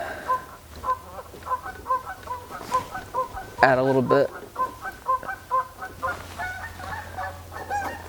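Geese honk repeatedly outdoors by a winter river, a run of loud, rhythmic calls under and between a person talking nearby.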